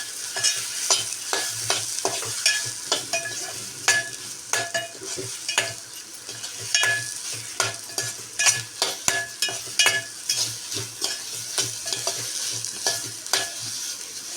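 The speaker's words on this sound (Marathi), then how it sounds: "आपण इथे भजेसुद्धा ॲड करत आहोत हे आपण मसाला अशा प्रकारे परतून घेणार आहोत" Masala and onion bhaji sauté in a pan for a hotel-style amti, with a bubbling sizzle under quick, repeated scraping strokes of a spatula, close up with no talking.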